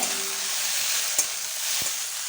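Jujube fruits stirred in a pan of hot oil while making a tangy sweet tomato chutney, a steady bright sizzle with a couple of soft scraping knocks, brief and close, no voices.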